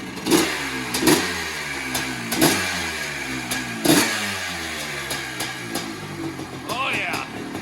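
A 1983 Honda CR480R motorcycle engine revved up in repeated loud bursts that settle between throttle blips, close by, with someone talking over it.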